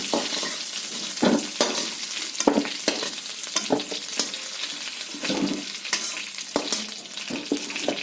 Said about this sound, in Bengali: আলুটা আমার ভাজি হয়ে গেছে, আমি তুলে দিচ্ছি